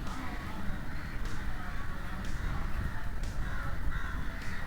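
Crow cawing repeatedly in the video game Mind Cell, a string of loud harsh caws at a steady rhythm over a dense, rumbling background.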